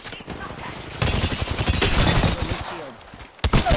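Rapid gunfire fills a battle royale shooter match: a sudden, loud fusillade of close automatic shots runs for over two seconds, stops briefly, then a fresh burst begins.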